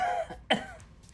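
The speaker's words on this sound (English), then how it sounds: "Cough." A single short cough, close and clear, from a person on an Instagram live stream, with faint background sound before and after.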